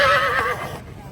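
A horse at a horse fair gives one loud, close whinny that rises sharply and then trails off within about a second, with faint bustle in the background.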